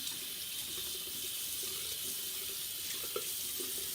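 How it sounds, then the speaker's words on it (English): Tap water runs steadily from a faucet into a sink while makeup brushes are rinsed under the stream, a continuous close hiss with faint splashy bumps and no talking. "as you're rinsing under the water"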